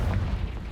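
A short, deep blast from the Confringo fire spell in Hogwarts Legacy, one boomy low rumble that fades quickly.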